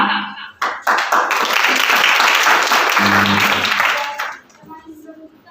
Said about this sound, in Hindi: Please give a big applause to the students.